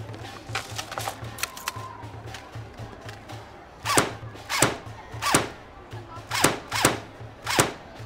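Sharp cracks from air guns at a fairground shooting stall, a handful of loud separate shots in the second half with background crowd chatter and murmuring earlier on.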